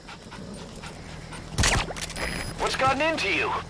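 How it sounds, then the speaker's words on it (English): A dog pup in the Metal Gear Solid V video game pants in quick breathy bursts under a steady background hum, with a sharp rustling burst midway and whimpering yips toward the end. "Dog pup. He's a tough little guy."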